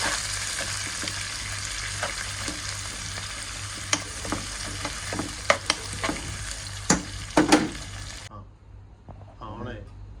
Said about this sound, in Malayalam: സവാളയും കുറച്ച് നേരത്തെ അരിഞ്ഞിട്ട് പച്ചമുളക് എടുത്തിട്ട് ഒന്ന് ഇളക്കിയെടുക്കും.